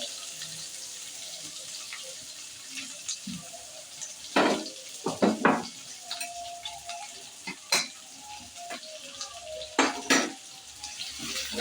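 Chopped onion, crushed garlic and curry leaves fry in a pan under a steady low sizzle, broken by several loud clanks and scrapes of a utensil stirring against the metal.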